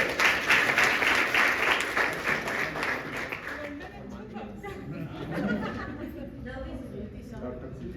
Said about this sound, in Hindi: एक बार बढ़िया जोरदार ताली बजाओ